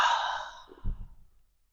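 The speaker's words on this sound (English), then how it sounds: "And out through the mouth." A slow breath goes out through the mouth during a calming exercise, a soft airy sigh close to the microphone that fades over about a second and a half, with no speech.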